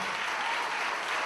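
Church congregation applauding at a worship service, a brief steady burst of dense, moderately distant clapping.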